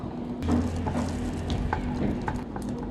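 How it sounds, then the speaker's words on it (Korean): Butter melting in a pan for macaron custard, a soft steady sizzle with occasional light stirring scrapes and faint clicks, close and fairly quiet, with a low steady hum beneath. "버터를 녹이겠습니다"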